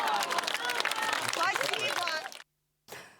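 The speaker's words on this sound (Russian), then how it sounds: "Бесконечные овации" Loud theatre applause and cheering for the singer rolls on for over two seconds, breaks off into silence, then returns briefly at the end.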